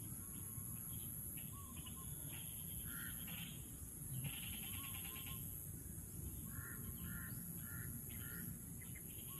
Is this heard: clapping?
no